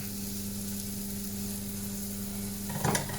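Garlic sizzles in a pan with a soft, steady hiss under a faint hum, and a short burst of louder crackling comes near the end.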